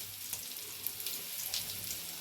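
Rui fish tokti kababs frying in hot oil: a continuous close sizzle with scattered crackling pops, and no one speaking.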